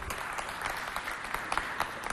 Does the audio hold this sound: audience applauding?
yes